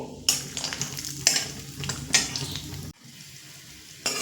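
Hissing sizzle of peanuts frying in hot mustard oil, broken by several sharp scraping stirs, then a quieter pause before one more stir.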